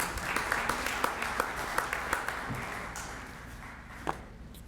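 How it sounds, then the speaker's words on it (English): Faint, steady applause from a crowd at a press conference, a dense patter of clapping that fades slightly toward the end, with scattered louder claps standing out. "they deserve a round of applause as well"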